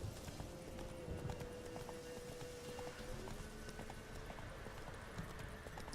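Roach the horse in The Witcher 3 trots with steady, rhythmic clip-clop hoofbeats, accompanied by a drawn-out whinny, at a moderate, close level.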